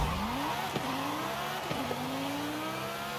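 A car engine in Forza Horizon 5 with an eight-speed gearbox and short gear ratios revs hard and climbs in pitch, then drops abruptly at each of two quick upshifts before rising again, loud and continuous.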